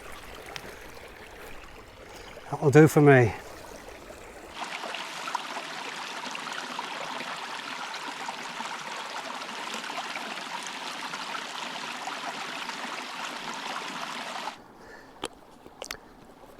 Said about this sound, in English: Some fast flowing water.